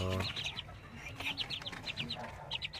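Several batches of young chicks, including dark orange, white, pumpkin and Boston-type birds at a home breeding setup, peep in quick high bursts at close range, with faint background noise and no talking.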